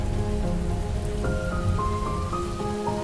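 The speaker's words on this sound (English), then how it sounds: "It rained harder and harder." Steady rain pours down in a dense, even hiss across the whole stretch, while soft sustained musical tones drift underneath.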